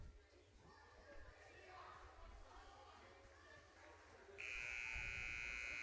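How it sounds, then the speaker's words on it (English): A loud, steady electronic timeout buzzer blares near the end of a timeout at a peewee youth game, following a stretch of muffled crowd noise and talk. "There's the buzzer."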